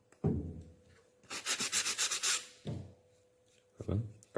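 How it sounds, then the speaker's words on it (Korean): Wood is sanded by hand with sandpaper in a school woodworking shop, a rapid burst of about eight rhythmic rasping strokes between a few louder knocks and scrapes. "사포나 그라인더로 갈아주면 됩니다"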